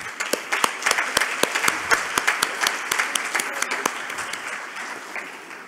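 Audience applause at the closing session of the LACNIC 40 – LACNOG 2023 conference, a dense, steady patter of many hands clapping with sharp individual claps standing out, sustained at moderate loudness for several seconds.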